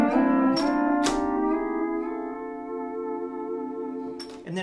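Pedal steel guitar plays a harmonized scale lick through an MXR Echoplex, sharp plucked attacks giving way to long sustained two-note chords with echo tails, close and solo, with a final picked accent at the end.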